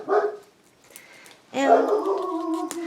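Dogs barking and yipping in a home craft room, a short burst near the start and a louder, sustained bout toward the end, heard mid-distance with a person talking.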